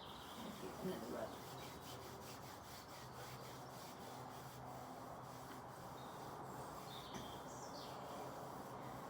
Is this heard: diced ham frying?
no